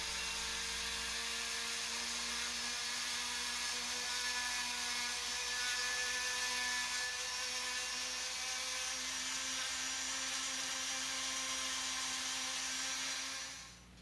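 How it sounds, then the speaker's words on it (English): A handheld rotary tool grinds steadily at the die-cast metal base of a Hot Wheels Heavy Chevy, a high continuous whine held close for over thirteen seconds before cutting off at the end. "so I turned back to my rotary tool, and I'm going to fix that before I put the new wheels on"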